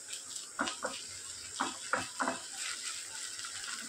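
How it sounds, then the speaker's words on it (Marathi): Onion frying in a pan with ginger garlic paste stirred in, a soft continuous sizzle broken by a few scraping stirs, fairly quiet, no talk. "कांदा फ्राय होतोय, त्यातच आलं लसणाची पेस्ट घालते"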